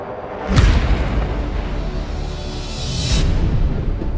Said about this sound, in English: a fist appeared out of nowhere and punched Ben across the face